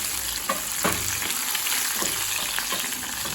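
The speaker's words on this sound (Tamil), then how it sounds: "கொஞ்சம் முந்திரி, 10 சின்ன வெங்காயத்தை சேர்த்துக்கலாம்." Cashews and small shallots fry in hot oil for sambar rice, a steady close sizzle with occasional crackles and stirring scrapes, no talking.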